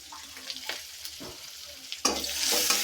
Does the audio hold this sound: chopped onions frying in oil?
yes